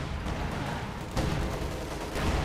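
Machine gun fire in the World War II strategy game Company of Heroes 2, a steady dense rattle of bursts under background battle noise, fairly faint throughout.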